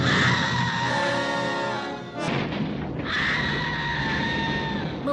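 Shrill, loud death scream of the dragon Maleficent in a Disney animated film, a long sustained shriek that breaks off briefly midway, then resumes and holds to the end.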